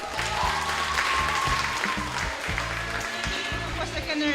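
A round of applause for a school debate team at a national grand final, dense clapping over music or voices in the hall, continuous and fairly loud.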